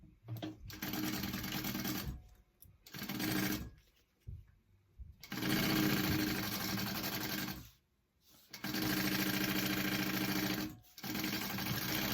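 A sewing machine top stitching a fabric clutch bag runs in long steady whirring bursts, stopping briefly between runs, close and loud with no talking.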